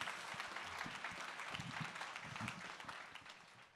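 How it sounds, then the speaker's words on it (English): Audience applause after a rabbi's talk at a community gathering, a steady dense wash of many hands clapping at moderate distance, sustained evenly for a few seconds with no voices over it. "Just another round of applause for Rabbi Brous."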